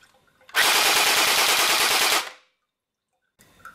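An Umarex Heckler & Koch G36 C airsoft rifle fires a full-auto burst of about two seconds, a rapid, loud, close rattle of shots that stops abruptly, followed by silence and then faint handling noise.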